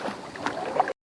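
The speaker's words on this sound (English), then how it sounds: "A little paddle on the canoe." A wooden canoe is rowed by a local boatman heading under sea caves near Phi Phi Island, Thailand, giving a short burst of water splashing and rippling with some wind, about a second long, close by, then cut off.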